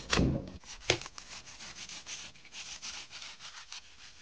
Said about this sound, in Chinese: 把鱼肉给刮下来。